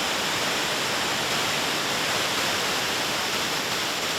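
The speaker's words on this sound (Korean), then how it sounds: "크고 작은 폭포들이 나눠지고 합쳐져 흘러내린다." Steady, full roar of the Yinlian Zhuitan cascades in Guizhou, China, many streams pouring over rock, heard close and constant with nothing else over it.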